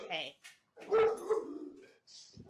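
A dog barks indoors near a bed in a few short, close bursts, mixed with people talking nearby.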